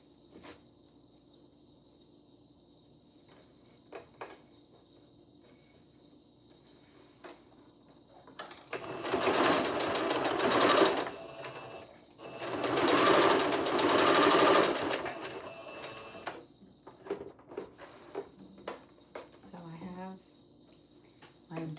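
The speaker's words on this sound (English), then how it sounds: "And now I'm going to sew the darts." A sewing machine stitches darts on a memory bear made from baby clothes, running in two close bursts of a few seconds each, with quiet handling noises and pauses around them.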